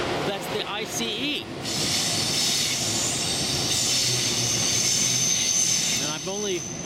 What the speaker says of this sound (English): Here comes another train. That's the ICE.